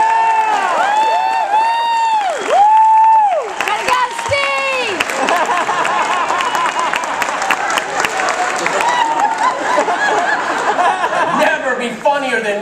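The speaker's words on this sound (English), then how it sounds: "If he gets it right, give him a huge round of applause." A cruise ship magic show crowd bursts into loud, sustained applause and cheering after a volunteer completes a trick. It follows a few seconds of voiced, whooping sounds at the start.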